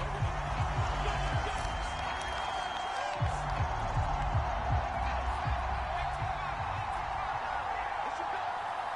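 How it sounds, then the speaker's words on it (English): A stadium crowd in the Madden football video game shouts and cheers while watching a replay, a dense steady roar with occasional louder bursts, under a commentator's voice talking throughout. "Plenty of shouts from this crowd as they watch the replay."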